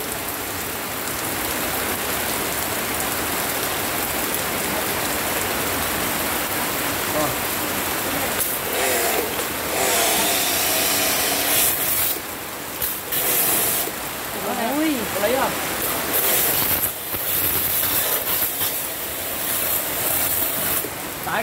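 A home car-washing pressure washer sprays water onto a car in the rain, producing a continuous loud hiss and splatter with brief shifts in tone as the jet moves.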